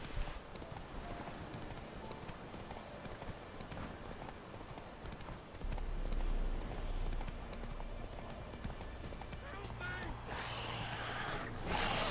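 Horse hooves gallop in a steady clip-clop rhythm in The Witcher 3: Wild Hunt, layered with game ambience and fairly close, growing heavier partway through.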